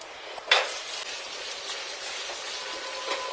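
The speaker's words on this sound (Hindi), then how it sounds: "अब इसमें मैं डालूँगा अनियन और इन अनियंस को मुझे जो है ब्राउन करना है" Sliced onions sizzle steadily in hot coconut oil in a pan, with a brief louder crackle early on, then an even, close hiss.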